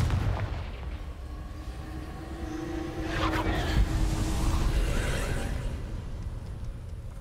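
Confringo blasting spell in the video game Hogwarts Legacy, a heavy rumbling explosion swelling in the middle of the clip over a dense low roar, followed by a sustained booming tail.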